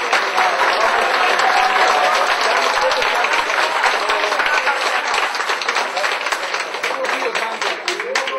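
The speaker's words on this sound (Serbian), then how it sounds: "Molim vas da njih i sve zaposlene pozdravite aplauzom." A large audience applauds steadily at a company's fifteenth anniversary celebration, dense sustained clapping filling the room at full volume and thinning slightly toward the end.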